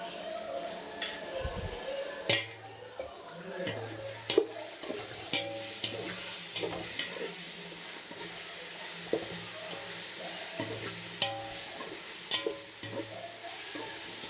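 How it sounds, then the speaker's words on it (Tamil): Ginger garlic paste frying and being stirred in a pot for chicken biryani, a steady close sizzle broken by repeated scraping stirs and clinks throughout. "இஞ்சி பூண்டு போட்டால் அந்த பிரியாணி வாசனையே வருது"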